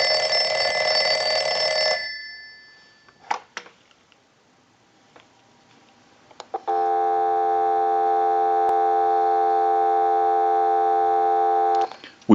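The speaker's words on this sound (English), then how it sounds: "I'll let it go one more time and we'll give you some dial tone." Western Electric 302 rotary desk telephone sounding a steady electronic tone for about five seconds after a brief earlier tone and a few clicks, clear and close with near silence between.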